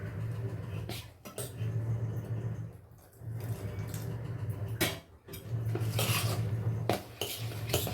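A spoon swirls steadily in one direction through thick idli batter in a bowl, with soft scraping and clinking against the sides, continuing in bursts with brief pauses.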